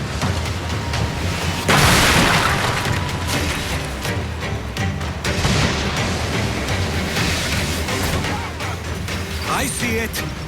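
Ship cannon fire in Assassin's Creed Black Flag, with a heavy boom breaking out early and lower rumbling blasts following amid busy game noise.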